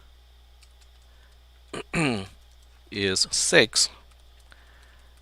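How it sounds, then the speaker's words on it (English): Light, rapid clicking of a computer keyboard while typing LaTeX, faint and continuous in the background, with a voice speaking briefly over it in a few short bursts. "You don't have to look at me typing in LaTeX."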